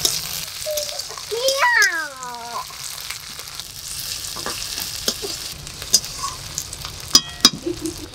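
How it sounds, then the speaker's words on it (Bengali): Black cumin, chopped onion and ginger-cumin paste sizzle as they are tempered in hot oil, a soft steady frying hiss with occasional stirring clinks, while voices and someone talk nearby. "ফোড়নে দিয়ে দেবো কালো জিরে, পেঁয়াজ কুচি, এবার দিয়ে দেবো আদা জিরে বাটা"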